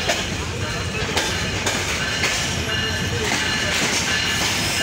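The Down Nilsagar Express pulls into Birampur station with a steady rumble and rhythmic clacking of wheels over rail joints, loud and close throughout, with wagons rolling past continuously.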